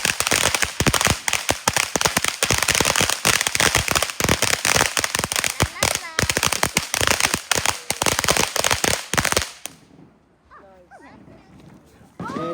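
Handheld fireworks crackle and pop in a rapid, dense barrage for about ten seconds, then stop abruptly, leaving people talking and a dog whimpering afterward.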